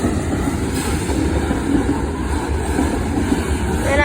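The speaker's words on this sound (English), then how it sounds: "This is part 2 of the CXX train. Heading northbound on South Avenue." CSX manifest freight train rolling past the South Avenue grade crossing, heading northbound; a steady, loud continuous rumble of wheels and railcars close by with no breaks, and a brief tonal squeal at the very end.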